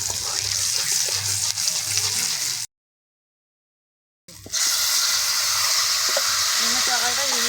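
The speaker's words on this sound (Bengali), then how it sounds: "ফোড়নটাকে একটু ভেজে নেব।" Five-spice phoron of whole spices frying in hot oil in a wok, a steady close sizzle that cuts out into silence for a moment, then returns at the same loudness with some faint stirring.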